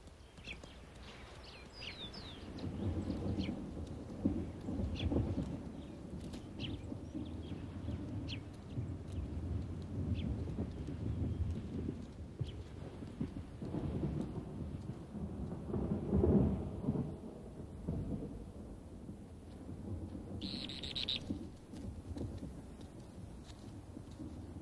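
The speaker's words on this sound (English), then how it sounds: "Distant sounds hint at approaching rain" Distant thunder rumbles low and continuous across the Patagonian shore ahead of approaching rain, a steady broad roll with a swell near the middle and faint rain-like texture, no voices present.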